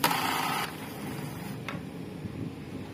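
An Epson L120 inkjet printer with a faulty power switch whirs into motion after being switched on, a steady mechanical hum with a louder opening burst and a single faint click partway through.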